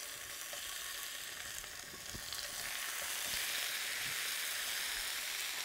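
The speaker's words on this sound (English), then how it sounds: "we're going to pre-cook the meat to a rare stage by roasting, stewing, or browning it in a little bit of hot oil like I'm doing here" Meat browning in a little hot oil in a pan, a steady close crackling sizzle with scattered pops that grows slightly louder and continues without pause, with no voices.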